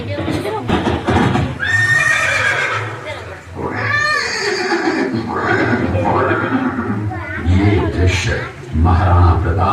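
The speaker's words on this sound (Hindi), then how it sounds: "महाराणा प्रताप और सुविख्यात स्वामी भक्त घोड़े चेतक के अंतिम मिलन का है।" A horse neighs and whinnies in a Chetak horse scene, loud and repeated with crowd noise and clip-clopping hooves mixed in, while a voice speaks over much of it.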